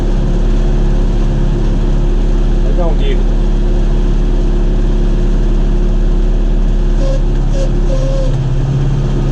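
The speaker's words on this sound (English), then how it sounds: "I hate carrying my tractor through this." A John Deere 5101 tractor engine drones loudly and steadily while driving through mud, a constant low rumble that holds throughout as someone speaks briefly over it.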